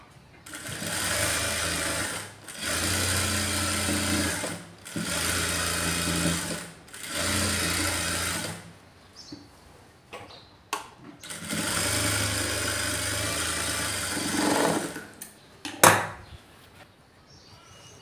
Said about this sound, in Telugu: ఇప్పుడు ఈ చివరలో ఒక కుట్టు అయితే వేసుకోవాలి.